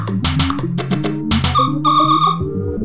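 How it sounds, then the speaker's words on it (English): The whistle in LSD Dream Emulator, a loud, near tonal blowing in several bursts of shifting pitch that end in a sustained two-tone hoot, with no talk. "The whistle!"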